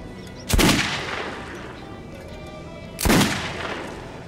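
Two loud, sharp gunshots fired in the shooter game Metro 2033 Redux, set in Riga, about two and a half seconds apart, each with a long echoing tail.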